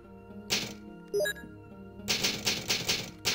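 Typewriter keys clack in quick bursts in the Resident Evil game, a few separate strikes followed by a steady run of sharp, close clicks over a faint ambient hum.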